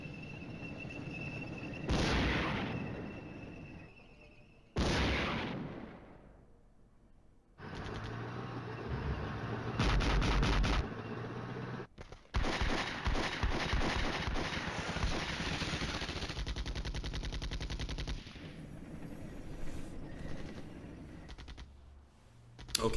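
Tank gunfire in the Flashpoint Campaigns: Red Storm wargame comes as loud, repeated bursts of shots and booming blasts, with rapid rattling volleys and heavy reports following one another with little pause.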